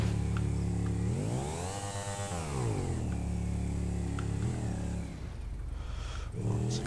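A Bati 801 motorcycle in GTA 5 revs its engine steadily, with a strong buzzing drone that rises and falls in pitch over several seconds, loud and close with no talking.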